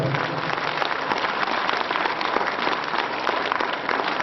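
Continuous applause fills a hall at a Kyrgyz song evening as a young composer is called back to the stage, a dense, even wash of many hands clapping without a break.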